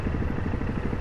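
A motorcycle engine in the game Proton Bus Simulator drones steadily up close, a low rumbling hum with a fast pulsing rhythm that holds through the whole moment.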